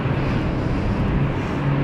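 A ten-year-old Boeing 737-800 airliner at Amsterdam Schiphol Airport during a storm gives a steady, moderately distant jet roar blended with gusting wind buffeting the microphone.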